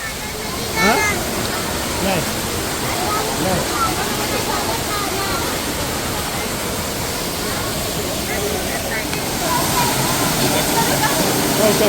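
Waterfall in El Yunque Rainforest, Puerto Rico: a steady, dense roar of falling water fills the whole clip, with people's voices briefly rising over it now and then.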